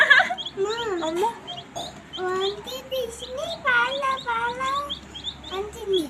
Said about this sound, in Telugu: ఏం చెప్తుంది కోడి పిల్ల నీకు?